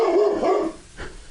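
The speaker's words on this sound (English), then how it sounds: "There's Earl saying hello" A big brindle mastiff guard dog gives a short burst of close, loud barking and whimpering vocalizations, which fade before one last brief yelp.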